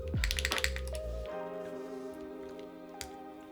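Keystrokes on a Velora TKL mechanical keyboard with Cheese switches click in a quick burst, then give way to a sustained ringing tone with one more tap near the end.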